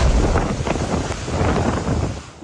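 Strong wind roars steadily with rain in Bani, Pangasinan, a broad continuous rush with gusty swells and no voices, loud and close to the microphone.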